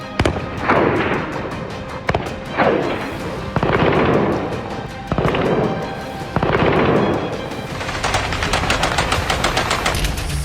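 Loud bursts of automatic gunfire from Taliban fighters shooting at Buddha statues rattle in several volleys, each followed by a rolling echo, ending in sustained rapid fire.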